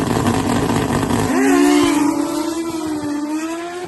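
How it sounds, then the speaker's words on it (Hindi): A motorcycle built for drag racing roars, then its engine note jumps sharply and settles into a loud, sustained high-revving whine. "मोटरसाइकिल को ड्रैग रेसिंग के लिए विशेष तौर पर डिजाइन किया गया है।"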